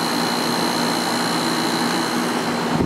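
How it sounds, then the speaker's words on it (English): The high-velocity fan of a Sharp 10,500 BTU air conditioner, driven by a large GE shaded-pole unibearing motor, blows with a loud, steady, close-up whooshing roar and a faint tonal hum. "high velocity fan with the big GE shaded pole unibearing motor"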